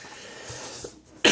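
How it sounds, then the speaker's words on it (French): A single sharp, loud cough bursts out abruptly at the end after a quiet stretch of room tone, from a person speaking French while opening Pokémon purchases. "je suis vraiment désolé de tousser"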